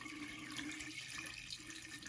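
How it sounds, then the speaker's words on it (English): Water pours and drains freely through an HVAC condensate drain, a steady, close rushing and trickling flow that continues unbroken and alone. "I'm pouring extra amount of water in here to show you how it drains out"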